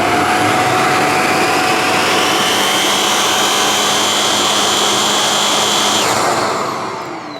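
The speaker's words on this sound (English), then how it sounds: "If you've got short pile carpet on your stairs, which most people will have, you can use the full suction and then turn it on." A Shark NZ850UKT vacuum cleaner runs at full suction on short-pile stair carpet, a loud steady close-up whine and rushing airflow that dips slightly in pitch near the end before fading.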